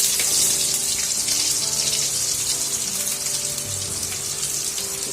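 Chopped onion frying in hot oil with popping mustard seeds gives a steady, close hiss and sizzle that runs evenly throughout, with no talking.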